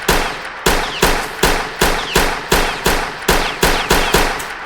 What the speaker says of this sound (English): a lot of people who are starting the game are probably gonna shoot something like this